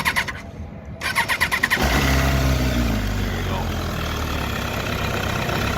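A 2013 MV Agusta F4 sportbike cranks with a rapid starter whir, then its engine catches and settles into a loud, steady, close idle, with someone talking faintly in the background.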